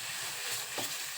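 A tempering for dal sizzles and hisses steadily in a hot pan, a soft, continuous frying sound at close range with no talking.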